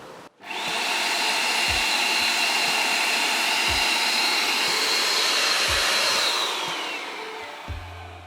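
A 1250W snow machine runs with its pump spraying mixture, a steady loud blowing whoosh that starts abruptly and holds for several seconds with faint low thumps underneath, easing slightly near the end.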